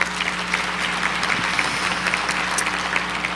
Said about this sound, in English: So please, a round of applause for Congressman Fatai.